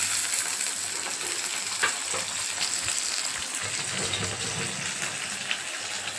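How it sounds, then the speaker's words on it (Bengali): Onions fry in hot oil tempered with cumin and bay leaf, a dense, even sizzle with faint crackles and occasional stirring taps, close and steady with no voices. "তেজপাতা ফোড়ন দিয়ে পেঁয়াজ দিয়ে একটু ভাজলাম"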